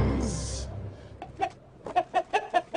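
A cartoon chicken in an animated movie clucks in a quick run of short, close, bright clucks after a brief noisy opening, with no talk during the calls.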